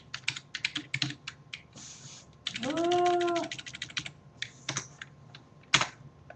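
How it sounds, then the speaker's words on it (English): Rapid, close clicking on a computer keyboard as a coupon code is entered, in uneven bursts with short pauses, while a cat meows once in the middle. "I'm gonna type it just so everybody has it"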